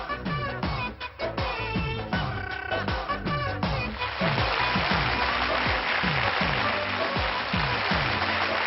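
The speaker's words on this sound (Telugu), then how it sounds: "క్లాప్స్." Studio audience on a Telugu television game show claps in a dense, steady burst, with music and short tonal hits underneath and scattered clapping before the applause fills in.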